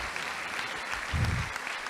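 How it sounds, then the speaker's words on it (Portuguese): Church congregation applauding during a sermon, a short steady patter of many hands at moderate level, with a brief low thump near the end. "Aplaude a Deus pela tua vida."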